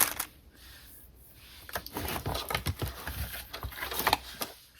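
Paper crinkles and rustles up close while being folded into a flip, with a burst of uneven crackling crinkles that picks up after a quieter start.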